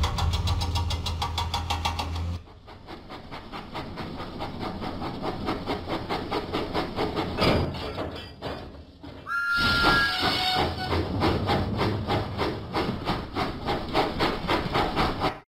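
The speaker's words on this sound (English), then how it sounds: "Thomas pumped his pistons and puffed out of the docks." Thomas the Tank Engine steam locomotive in a Thomas & Friends video game, puffing steadily with hissing steam and a brief whistle toot partway through, loud and close with no talking.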